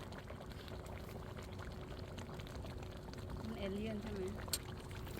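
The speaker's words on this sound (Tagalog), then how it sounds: "At papakuluan ko lang ng konti pa para naman maluto yung ating pork." A pot of pork with seasoning simmers and bubbles quietly, a soft steady boiling texture with a faint gurgle rising near the end.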